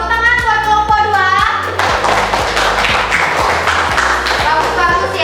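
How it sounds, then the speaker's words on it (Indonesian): Classroom applause for a student group's presentation, with rapid claps and thuds sounding close and loud over a steady low hum, mixed with some voice-like tones and scattered children's voices. "Tepuk tangan buat kelompok 2."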